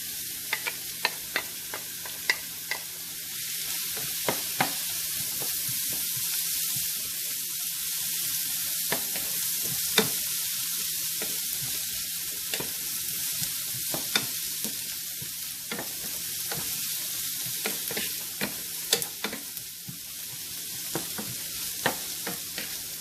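Onions sauté in about four tablespoons of hot cooking oil for a spicy crab masala, a steady soft sizzle broken by frequent sharp clicks and scrapes of a spoon stirring against the pan, with no talking.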